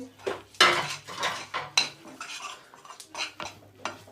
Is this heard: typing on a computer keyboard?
no